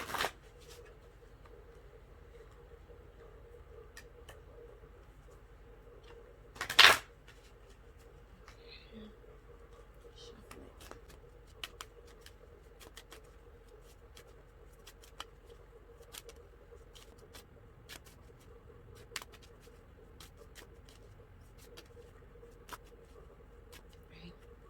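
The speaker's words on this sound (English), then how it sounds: "let's shuffle one more time" Cards are shuffled quietly in soft, scattered riffles and taps, with one sharper burst early on, over a low background hum.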